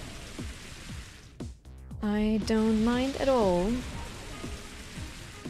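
Rain Dance in Pokémon XD: Gale of Darkness brings a steady hiss of game rain, heard alongside a Pokémon cry and the game's music while a person talks over it.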